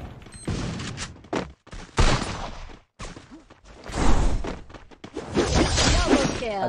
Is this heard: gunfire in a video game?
yes